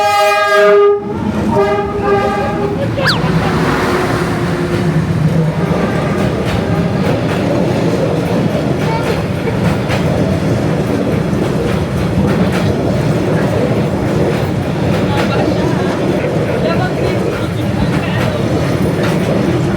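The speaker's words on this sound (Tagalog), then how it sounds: "siguro parang mga 1 minute na lang dadaan na yung train." A train rolls through Hanoi's narrow train street, opening with a loud horn blast, then a sustained close rumble and clatter of passing wagons that fills the rest of the clip, with faint voices of onlookers underneath.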